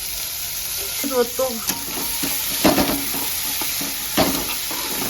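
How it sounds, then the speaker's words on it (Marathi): Onion frying in a pan for an egg roll, a continuous sizzle with a few utensil scrapes and clinks, and a brief voice in the background. "कांदा टाकलाय भाजायला, त्याच्यामध्ये तेल टाकायचं"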